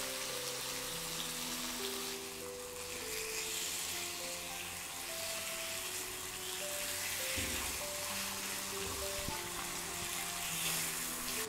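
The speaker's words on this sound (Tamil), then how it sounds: "சிக்கன் இப்போ ரோஸ்ட் ஆயிடுச்சு." Thin slices of chicken breast sizzle and fry steadily in a hot pan, a dense continuous crackle with occasional stirring clatter and no talk.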